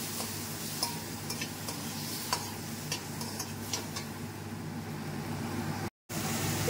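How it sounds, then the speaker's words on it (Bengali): Panch phoron and dried red chillies tempering in oil in a pan for chutney, lightly stirred: a soft, steady sizzle with faint scraping and small ticking crackles, no voices. "পাঁচ ফোড়ন আর শুকনো লঙ্কা ফোড়ন দিয়ে এটা একটু হালকা নেড়ে নেব।"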